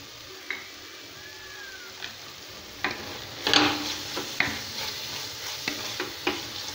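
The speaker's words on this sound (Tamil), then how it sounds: "இப்போ 2 நிமிஷம் வதக்கிக்கலாம்." Chili, coriander, turmeric and garam masala powders sautéing with tomatoes in a pan for mushroom biryani, a soft steady sizzle broken by scattered scrapes and clinks of the stirring spoon.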